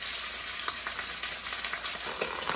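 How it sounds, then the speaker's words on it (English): Snapper fish browning in a frying pan give a steady, dense sizzle with small pops and spatters, close and fairly loud throughout, no voices. "First, I'm gonna brown these fish."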